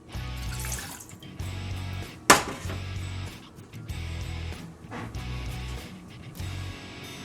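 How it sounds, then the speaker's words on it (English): Water runs and splashes into a saucepan for several seconds over a low steady hum, with a sharp clank partway through. "I'm going to put"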